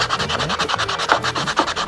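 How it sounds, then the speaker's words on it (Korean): Sandpaper rubs over a hand-carved wooden spoon in rapid back-and-forth strokes, making a close, rhythmic scratchy rasp that repeats several times a second with no voices. "2차 사포로 전체적인 또 사포 작업을 하실 때"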